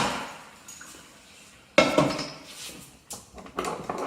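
A freshly boiled mud crab is tipped out of a cooking pot, giving a sudden loud clatter of shell and metal, followed by a few scattered knocks and clinks close by.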